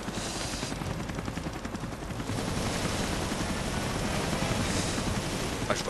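Continuous dense rotor rumble from a helicopter in the Resident Evil Revelations video game, steady and loud throughout, mixed with rapid gunfire crackle and game effects, with no voice.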